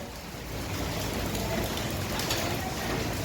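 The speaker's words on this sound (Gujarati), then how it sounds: "ધીમો ધીમો વરસાદ ચાલુ છે અત્યારે" Light monsoon rain falls steadily, a soft even hiss of drops spread across the whole clip, with no voices and nothing standing out above the wash.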